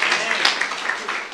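Youth congregation applauding in a church service, a dense, steady wash of clapping that stays fairly loud and even throughout.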